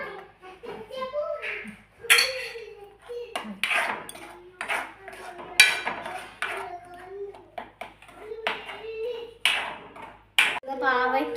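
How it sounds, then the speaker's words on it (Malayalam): Bitter gourd is mixed in a pan, with light metallic clinks and scrapes of a spoon against the pan under near-continuous talking. "പാവയ്ക്ക ഇതിനകത്തൊക്കെ ഇട്ട് കൊടുക്കാം. നമുക്ക് മിക്സ് ചെയ്യാം."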